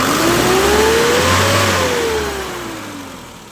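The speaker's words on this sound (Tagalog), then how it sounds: "Ayan ang engine. So RPM check tayo." An Isuzu 4HL1 diesel engine in an Elf truck revs up loud and close, pitch rising to a peak and then easing back down as the throttle is released, with no talking over it.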